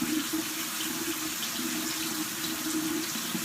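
Hot tap water runs steadily from a faucet over a new Rodan + Fields product held under the stream, a constant close splashing rush with no pauses and no voices.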